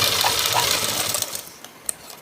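A sewing machine runs a double stitch along a blouse seam, giving a steady fast mechanical whir that tapers off near the end, with a sharp click partway through.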